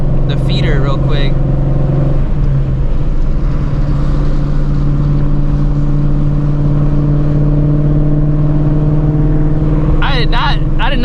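A Shelby GT350 fitted with a new twin disc clutch drives along with a steady, droning engine and road noise from inside the cabin, while a voice talks over it at the start and end.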